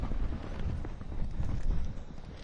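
A horse's hooves slowing from a trot to a walk outdoors, giving a soft, irregular clip-clop under light wind noise.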